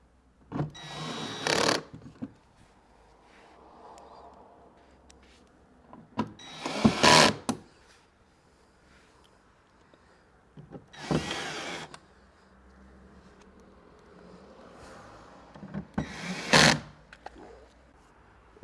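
A power driver runs screws into massage chair parts during assembly, with four separate short bursts of whirring spaced several seconds apart and quiet handling noise between them.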